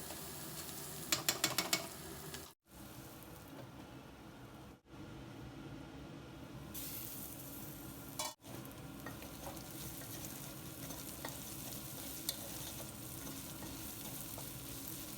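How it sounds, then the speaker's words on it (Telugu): Bitter gourd pieces fry slowly in a pan with a steady, fairly quiet sizzle. A few light utensil clicks and stirring scrapes come early, with brief dips in the sound, and the gentle crackle continues without speech. "అలా నిదానంగా ఫ్రై చేసుకోవాలి"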